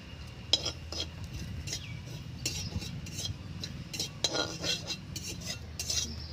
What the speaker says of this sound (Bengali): কিছুটা পরিমাণ পোস্ত আমি শুকনো খোলায় ভেজে নেব।